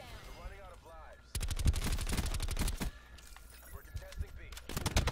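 Rapid automatic gunfire from a Black Ops 4 multiplayer match rattles in fast, loud bursts with shorter shots between them, while a voice talks at the start.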